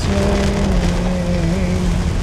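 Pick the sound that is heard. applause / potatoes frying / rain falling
rain falling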